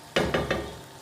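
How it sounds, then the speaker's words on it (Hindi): Chicken karahi with tomatoes and green chillies frying in a Peshawari-style pan, heard as three quick, close bursts of hot sizzling as it is stirred, then settling back to a low hiss. "पंद्रह मिनट हो गए हैं मुझे इसको भूनते हुए।"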